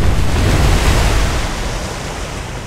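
Battleship Haruna sinking at sea in the naval video game War on the Sea, a loud broad rushing roar of water and wind that slowly eases off, no talk.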